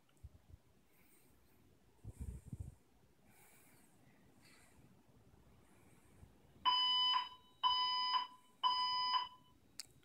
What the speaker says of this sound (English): this is what you will see and hear if a fire alarm sounds in your classroom